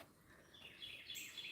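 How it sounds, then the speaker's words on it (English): A Carolina chickadee calls beside a river, giving a few faint high chirps over a soft outdoor background. "That's the Carolina chickadee."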